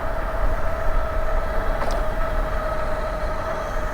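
Velotric Fold 1 folding e-bike running on throttle alone, a steady motor whine with a constant tone under broad wind and road rush, continuous and fairly loud throughout.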